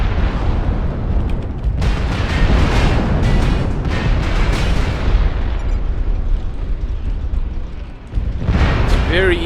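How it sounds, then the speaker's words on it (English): Incoming missiles explode in a MechWarrior Online battle: a dense, continuous barrage of loud booms and rumbling blasts that overlap without a break for about nine seconds, dipping briefly before one more heavy burst. "Oh, here comes some missiles."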